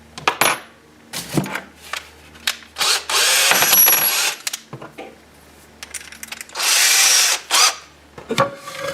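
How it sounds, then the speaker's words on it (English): A power drill whirs in two sustained bursts as it bores into a drywall wall for a curtain rod anchor, with clicks, handling knocks and small metallic clatter around them, close and loud. "We're going to drill a hole through it."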